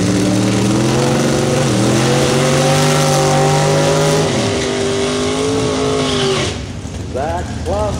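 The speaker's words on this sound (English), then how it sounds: "Beautiful 65 Chevy 2. And Kevin Adams on the power side, right-hand lane out of Terre Haute. Also a Chevy 2" Drag racing cars rev loudly at the start line, including a 1965 Chevy II, with steady engine drones that shift pitch and then drop away, under a track announcer's continuous commentary.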